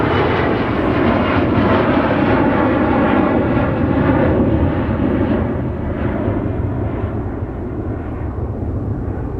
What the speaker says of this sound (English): Here's Aer Lingus departing off the North Parallel.